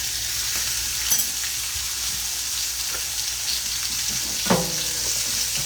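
Steak frying in a pan gives a loud, steady hiss of sizzling fat, close up, with a couple of brief metallic clinks from a utensil.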